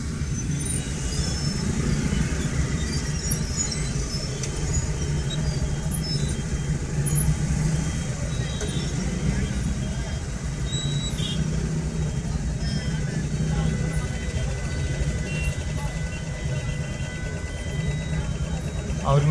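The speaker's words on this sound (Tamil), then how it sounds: "என் சைடுக்கு ரைட் சைடுக்கு வண்டி வந்துட்டு இருக்குதுங்க." Dense city road traffic in Coimbatore, a steady, loud wash of car, bus and truck engines humming and rumbling nearby without a break throughout.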